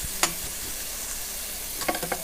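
Chopped bacon frying in a pan for a cheesy southwest mac and cheese, a low steady sizzle broken by a few sharp scrapes and clacks of stirring, close and alone.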